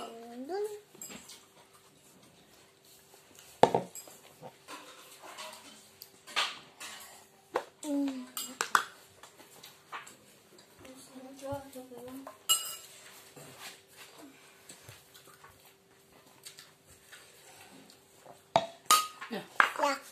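A fork clinks against dishes during a meal, with scattered light taps and chinks between stretches of talking voices.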